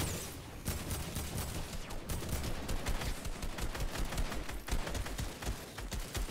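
Rapid, dense gunfire from the video game Fortnite, a continuous loud barrage of shots lasting throughout with no talk.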